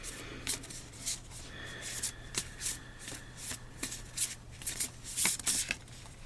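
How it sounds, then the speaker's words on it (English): Repeated riffle-shuffling of an Affirmators Love and Relationships card deck, crisp close-up bursts of flicking cards recurring every half second or so, quiet and alone. "So this week we're going to use the Affirmators Love and Relationships deck, and we'll just give this a little shuffle here"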